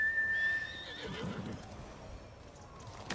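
A horse in Ghost of Tsushima whinnies loudly at the start, its neigh ringing out before fading into a few soft hoof clops and low ambient rumble.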